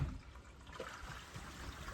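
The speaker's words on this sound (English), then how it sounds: "run some fresh water through that." Fresh water runs through a hose into a Camco Rhino heavy-duty 28-gallon portable dump tank, a soft steady trickle and gurgle of liquid close by, with no voices.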